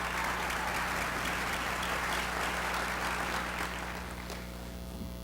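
Steady applause fills the hall at a 2003 Augsburg College commencement ceremony, a dense crowd clapping that holds strong for several seconds and then thins and fades toward the end over a low electrical hum.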